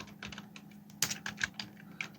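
Soft, irregular key taps on a computer keyboard, a quick scattering of clicks with one sharper press, close and quiet.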